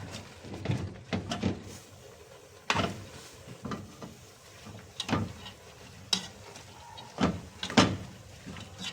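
A spoon stirs washed spinach cooking in a pot for spinach with vermicelli rice, making irregular scraping strokes and soft knocks against the pot over a quiet sizzle, with no talking.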